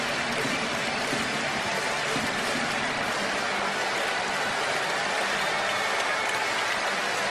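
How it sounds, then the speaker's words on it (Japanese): Baseball players and fans applaud the Rakuten manager's farewell at a Japanese stadium, a broad, continuous wash of distant clapping and crowd noise that sounds almost like rain, with broadcast commentary talking over it. "そして日本ハムの選手も拍手で称えています。"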